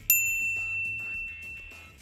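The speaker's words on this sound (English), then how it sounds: "ring the bell to get notified about our latest videos" A single bright notification bell ding strikes sharply near the start, then rings on with a clear, sustained metallic tone that slowly fades over about two seconds.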